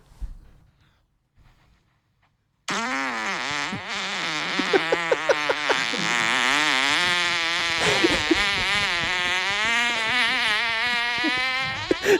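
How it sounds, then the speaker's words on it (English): A long recorded fart played back from a WhatsApp group message, a loud, sustained buzzing and sputtering rasp lasting around ten seconds after a near-silent start, wavering in pitch like an insect's drone. "I think it was a good fucking 12-second fart."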